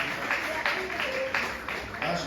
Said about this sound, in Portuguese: Acho que essas palmas significam o fim